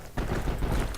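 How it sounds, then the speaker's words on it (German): Grenades and gunfire in the World War II shooter Heroes & Generals: a dense, rumbling burst of explosions and shots that starts abruptly and stays loud for under a second. "Da fliegen die Granaten."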